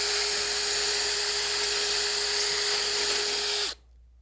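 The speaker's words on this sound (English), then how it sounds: "Using a 1/4 inch drill bit, drill through the rail and the bracket all the way to the other side." A power drill with a 1/4 inch bit bores through an aluminum stair rail and bracket, a loud, steady high whine held for several seconds before cutting off abruptly, with no talking.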